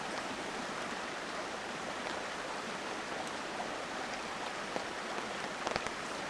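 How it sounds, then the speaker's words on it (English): Heavy rain pours steadily onto a camp tent and tarp, a dense, even hiss close by with scattered louder drips and pattering near the end, and no talking. "And Bruce, as usual, is lying out in the rain"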